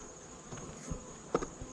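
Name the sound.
honey bees buzzing around backyard beehives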